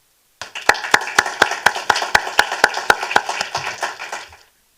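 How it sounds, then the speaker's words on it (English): Applause for school staff at a 2021 presentation evening, a steady run of sharp, fairly regular hand claps from a modest group, starting after a short silence and fading out near the end. "I ask you to join with me in acknowledging all our fantastic staff with a round of applause"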